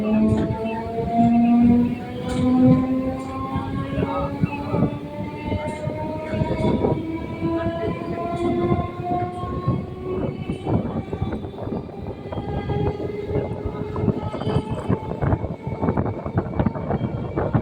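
A train rumbles past close by at the Eastern Railway workshop gate in Kanchrapara, wheels clattering rhythmically over the rails, with a long drawn-out horn tone sounding early on.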